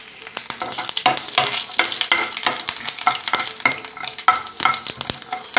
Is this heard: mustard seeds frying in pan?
yes